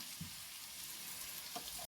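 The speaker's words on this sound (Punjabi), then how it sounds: "ਤੜਕਾ ਸਾਡਾ ਕੰਪਲੀਟ ਹੈ ਅਦਰਕ ਲਸਣ ਪਿਆਜ਼ ਸਾਰਾ ਕੁਝ ਭੁੰਨ ਲਿਆ" Ginger, garlic and onion sizzle steadily in hot oil as a tempering for saag, a close, continuous crackle with a couple of faint stirring taps.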